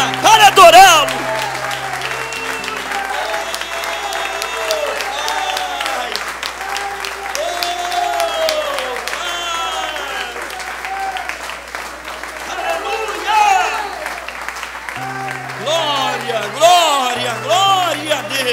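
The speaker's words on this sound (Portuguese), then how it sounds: "dê a Ele a melhor salva de palmas que você já deu em toda a sua vida" A church congregation applauds, a sustained wash of clapping with whoops and crowd voices that swells at the start and again near the end, with some speech and music-like tones underneath.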